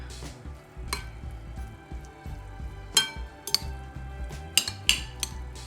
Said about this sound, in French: Là, on mélange bien le riz.